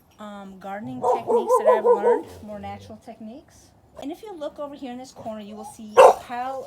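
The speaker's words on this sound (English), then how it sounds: "I'm so sorry about the dogs" Dogs bark and yip in the background of an outdoor garden while someone talks continuously over them, with one louder, sharper bark near the end.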